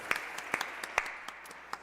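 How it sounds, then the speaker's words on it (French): A church congregation at an Easter Mass claps for the welcome and cleaning teams, with sparse, scattered hand claps that rise and fade over a couple of seconds and never build into a full ovation. "Vous pouvez les applaudir de chez vous."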